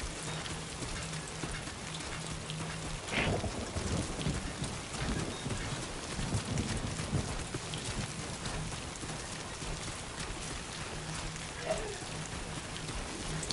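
Timefall rain falls steadily in the video game Death Stranding 2, a dense, even patter with a low rumble of thunder rolling in partway through. No voices break the constant downpour.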